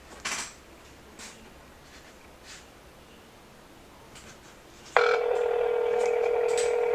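Samsung Droid Charge on speakerphone: after faint handling taps, a steady loud electronic dial tone starts abruptly and holds without a break until the end.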